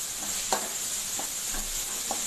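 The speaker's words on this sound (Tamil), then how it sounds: "இப்போ இதில் வந்து நம்ம தக்காளியை ஆட் பண்ணிக்குவோம்" Tomatoes go into onions frying in a pan for egg fried rice, giving a soft, continuous sizzle broken by a few light clicks from stirring over a couple of seconds.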